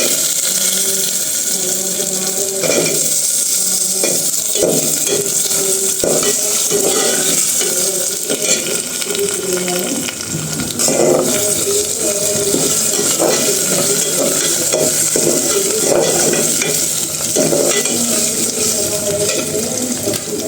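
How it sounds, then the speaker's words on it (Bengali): Lentils and potatoes sizzle and fry steadily in a pan with frequent stirring and scraping clatter, continuous throughout at close range, no talking. "ডালটা একটু ভেজে নিব"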